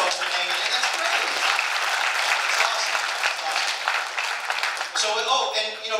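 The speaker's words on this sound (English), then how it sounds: "big round of applause for those folks for hanging in" A room full of people applauding, dense continuous clapping close and loud, tapering slightly near the end.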